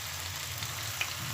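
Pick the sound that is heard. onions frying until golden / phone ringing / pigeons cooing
onions frying until golden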